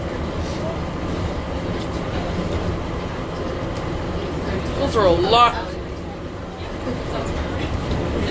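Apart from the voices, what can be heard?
riding a train, skytrain, interior rail noise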